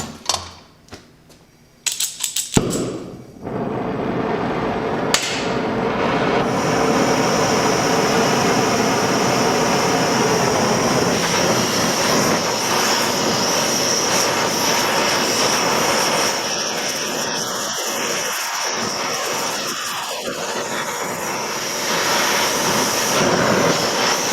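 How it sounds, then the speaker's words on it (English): A steel keychain bar is heated until red hot with a torch, producing a loud, continuous roaring hiss that starts after a few brief clicks and holds steady throughout. "So we're going to heat up this whole area here, leaving just enough room for our wrench to slip in here."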